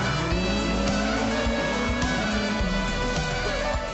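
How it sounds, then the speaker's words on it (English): Skoda rally car on a fast hot lap of a Circuit of Ireland 2012 stage, its engine roaring loud and constant at high revs with brief shifts in pitch and tire noise throughout. "Robert Barrable starts off with German Sepp Wiegand behind on his hot lap"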